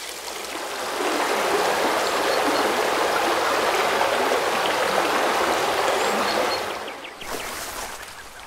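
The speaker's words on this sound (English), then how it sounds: "attach the handle to fill the pond with water" Water pours steadily into an empty pond in the video game Botany Manor, a broad rushing stream-like flow that swells after the first second, holds constant, then briefly drops off near the end before resuming more quietly.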